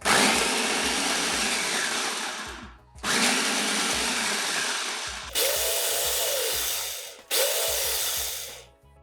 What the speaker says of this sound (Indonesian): Oke, blender hingga halus.